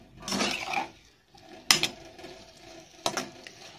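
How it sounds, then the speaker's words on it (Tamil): Cauliflower florets being stir-fried in a pan over a medium flame, with a spatula scraping and clinking against the metal in a few bursts and short pauses, close and fairly quiet, no talking. "இந்த காலிஃப்ளவர் போட்டு லைட்டாக ஒரு பரட்டை பரட்டிட்டு மீடியம் ஃப்ளேமில் வச்சுக்கோங்க"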